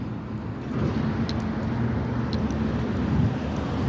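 Steady low road traffic rumble at a bus stop, vehicles droning continuously nearby with a slight swell toward the end, no voices.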